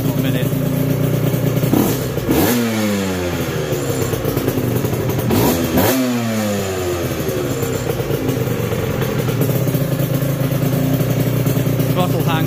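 An Aprilia RS125 two-stroke motorcycle engine runs loud and close, a buzzing idle with two sharp throttle blips that rise and fall in pitch, then settling back to a steady, rattly drone.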